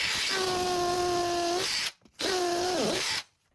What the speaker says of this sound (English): Now we're going to use it in our cordless combi drill.